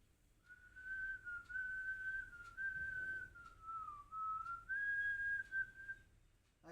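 A person whistles a sustained, wavering tune with the mouth for several seconds. The whistle sounds close and clear over a quiet background.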